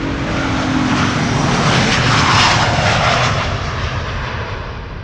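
An Embraer 170 jet takes off from Amsterdam Schiphol bound for Newcastle, its engines producing a loud, continuous roar that peaks midway and slowly fades.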